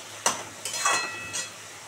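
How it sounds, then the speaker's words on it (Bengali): Red lentils with spices stir-fried in a pan for a Bengali masoor dal, heard as a few short scraping sizzles from a spatula pushing the mixture, with quiet gaps between strokes. "আমি এটা এখন 2-3 মিনিট ধরে কষাবো।"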